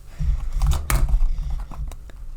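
Osho Zen Tarot cards being shuffled by hand, a few close riffling and slapping bursts over about two seconds with no talk.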